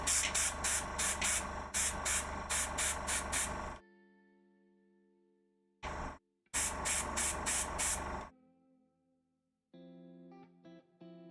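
Spray paint hissing out of a can onto card while a Forgeworld Nurgle Daemon Prince miniature is painted: a run of short, regular bursts, then a pause and a few more bursts, with quiet gaps between them.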